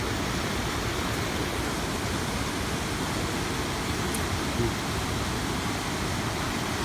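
Small stream flowing naturally over a rock ledge at Huai Wai, Nong Bok, Khammouane, a steady broadband wash of running water, faint and continuous with no talk.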